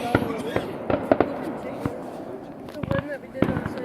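Fireworks crackle and pop outdoors in a run of sharp, scattered bangs, some close and loud, with people talking in between.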